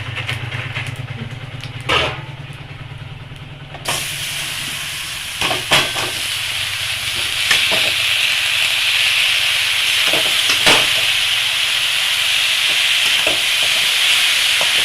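Boiled cabbage tipped into hot oil with cumin seeds and dried chillies, bursting into a loud, steady hiss and sizzle after a quiet start, with a few scrapes and knocks of the spatula against the pan.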